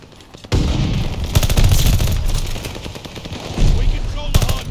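Rapid automatic gunfire and shots ring out around the hardpoint in a Call of Duty: Vanguard ranked match, with loud bursts that start abruptly and keep going, broken by short gaps and a few heavier blasts.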